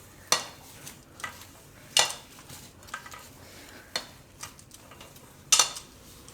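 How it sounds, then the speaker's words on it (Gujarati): Grated potato and semolina cutlet mixture with spices is mixed by hand in a bowl, giving irregular soft clicks and knocks against the dish, close and quiet, with no talking. "હવે બધું મિક્સ કરી લેવું એકદમ હાથથી."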